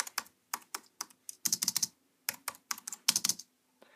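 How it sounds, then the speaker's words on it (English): Rapid keyboard clatter from an Apple wired keyboard with a noisy spacebar, sharp key presses in quick bursts separated by brief pauses, close and fairly loud. "Noisy spacebar here."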